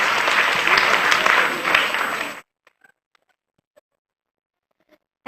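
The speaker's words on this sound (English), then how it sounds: "Give a big round of applause for our children." An audience at a school annual-report event claps for the children in steady, dense applause that stops abruptly, leaving near silence with a few faint sounds before noise returns.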